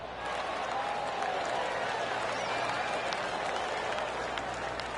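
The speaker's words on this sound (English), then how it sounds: "we're hearing some excitement elsewhere on the course" Far off on a golf course, a crowd applauds and cheers, a soft, steady wash of clapping and murmur that holds for a few seconds at a distance.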